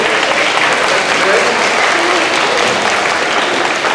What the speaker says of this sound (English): please thank your parents for being here. Let's give them a round of applause for joining me today.